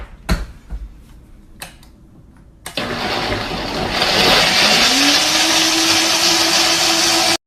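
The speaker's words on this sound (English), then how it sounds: "Now we're going to blend it." A KitchenAid Pro Line Series blender blends a kale smoothie: after a few knocks and clicks the motor starts abruptly and runs loud and steady, its roaring whir settling into a sustained, slightly rising pitch as the contents smooth out.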